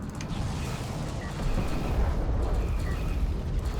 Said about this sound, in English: This Tactical Barrage might just end the game.